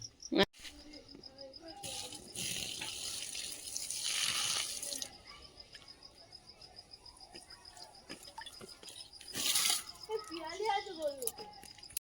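Salted water pours from a large basin in two loud splashing gushes, one long and one shorter, with crickets chirping in the background and people talking between them.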